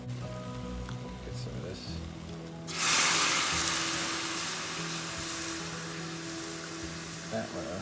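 A roasting pan of lamb with rosemary, garlic, thyme and butternut squash being deglazed, a sudden loud hiss and sizzle that bursts in partway through and settles into a steady bubbling, with someone talking over it.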